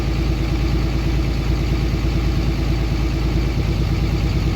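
A Cummins diesel engine idles with the idle raised during a cylinder test, giving a steady, loud, close low rumble with an even throbbing pulse and no talk.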